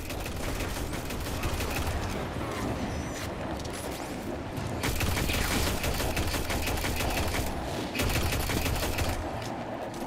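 Sustained rapid gunfire in the sci-fi shooter Destiny 2, a dense automatic rattle of closely spaced shots that runs nearly continuously and swells louder in bursts, with no voices.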